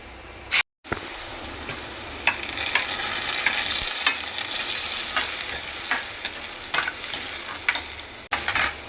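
Onions sauté in oil with mustard seeds and fennel, a continuous close sizzle broken by repeated spatula scrapes and clicks against the pan, with a brief dropout near the start and no speech.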